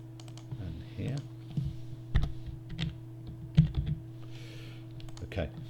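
Irregular clicks of keys being typed on a computer keyboard, fairly close, over a low steady hum.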